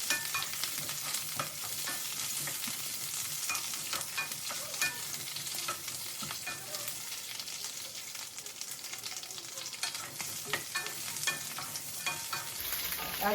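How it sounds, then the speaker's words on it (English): Green chilies sautéing and blistering in a hot pan, a continuous close sizzle and crackle of frying with occasional stirring scrapes throughout. "Just saute them. You want the chilies to blister"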